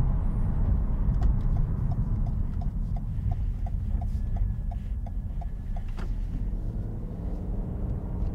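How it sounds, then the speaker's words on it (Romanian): Cabin noise inside a Toyota Yaris Cross Hybrid AWD-i while driving, a steady low road and tyre rumble with a faint rhythmic ticking, moderately quiet and continuous. "Este sesizabil zgomotul în cabină, dar nu mi se pare că sună atât de tare"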